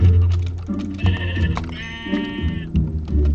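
Sheep in the Minecraft video game bleat several times in quick succession, loud and close, with short wavering cries.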